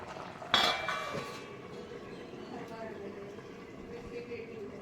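A metal plate set as a lid on a pot of masale bhat on the stove: one bright metallic clink that rings briefly and fades, heard close against a steady background hum.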